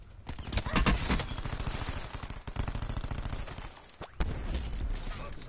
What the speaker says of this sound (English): That cluster grenade finally worked.